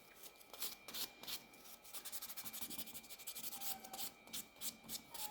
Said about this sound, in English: Just to buff it nice and smooth.